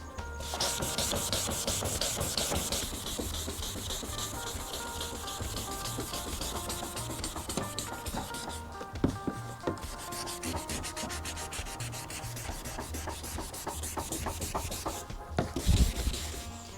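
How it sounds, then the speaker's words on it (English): Wet sanding of a car headlight lens with 1000-grit sandpaper, a steady close rasping rub that keeps going without pause, with rhythmic back-and-forth strokes and a brief knock near the end, no voices. "So now we're gonna do sanding. You wanna keep it moisturized while you're sanding."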